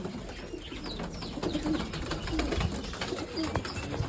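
Black-patterned Bango breed pigeons coo softly in a loft, several low murmuring calls over a busy rustling background.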